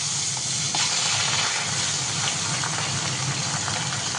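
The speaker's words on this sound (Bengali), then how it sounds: "চলুন এটা ভাজা হোক, ততক্ষণ আমি অন্য কাজ করি।" Fish and vegetables sizzle in very hot oil on a gas stove, a steady, loud frying hiss with crackles that runs unbroken throughout.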